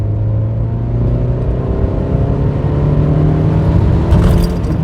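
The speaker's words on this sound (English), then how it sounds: "There we go, low down grunt. We're in second gear, going uphill." A 1997 Hyundai Lantra 2.0 GSi engine pulling in second gear uphill, a loud, close, steady low drone with rising harmonic tones and no talking.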